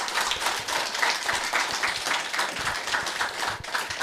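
A lecture audience claps at the close of a talk on the water towers of Val-d'Oise, a dense, even patter of many hands, fairly distant and steady, with no voices.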